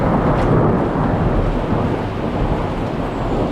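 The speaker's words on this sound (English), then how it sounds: "Well, it's raining hard." Heavy rain pours down during a bikepacking trip in Italy, a loud, dense, continuous roar close to the microphone with no voices.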